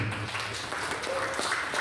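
Students in a social-studies classroom clapping together, a soft, distant patter of applause that stays fairly quiet and steady, with faint murmuring voices underneath.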